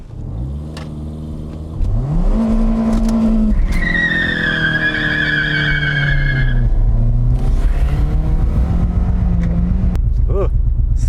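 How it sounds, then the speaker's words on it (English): An inexpensive Toyota Corolla's engine is revved hard toward redline and then held under strain, a loud rising mechanical howl with tire squeal and rough shifts, punctuated by a brief noise. "I'm gonna slam it in reverse, put it in neutral, redline it, and then slam it in low"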